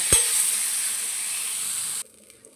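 Tomatoes sizzling in a hot pan for chicken sukka, a steady bright frying hiss right after a short clatter, cutting off abruptly near the end.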